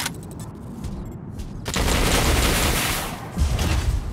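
Incoming fire in the Mech Arena robot combat game: a loud roaring barrage of heavy weapon blasts swells after a quieter rattling stretch, then holds steady with a thump near the end.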